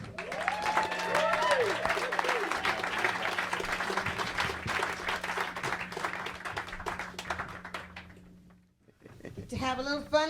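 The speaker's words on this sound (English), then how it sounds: "please, a huge round of applause," An audience claps steadily for a blues singer introduced on stage, a continuous crowd of applause with a host's voice and cheering over it, fading out near the end before speech resumes.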